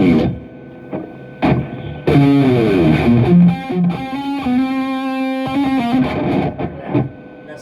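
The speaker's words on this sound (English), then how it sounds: "We'll add some reverb to our tone." A distorted electric guitar plays a lead line, with bent, sustained notes and a reverberant tail, loud and up front, no voices.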